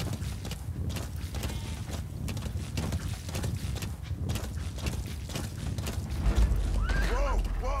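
Horse hooves trotting in Metal Gear Solid V: The Phantom Pain, a steady clip-clop rhythm with creaking tack, constant and close, along with game ambience and someone talking over it.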